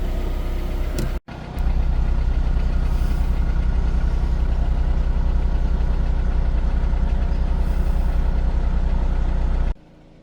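A Volkswagen Tiguan engine idles steadily and close by, a low even hum that runs for about nine seconds after a brief cut near the start.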